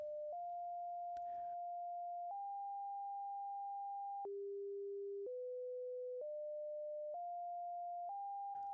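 A pure electronic tone holds steady, then jumps between pitches every second or so, stepping down and climbing back up, with brief clicks.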